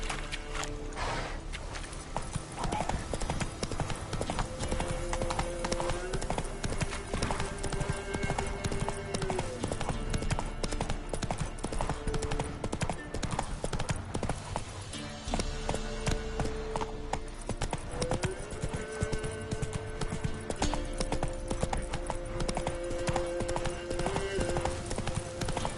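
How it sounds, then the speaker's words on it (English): The horse Roach gallops in The Witcher 3 with a continuous, brisk hoofbeat rhythm up close, set against a dense bed of game music and ambience. "Come on, Roach."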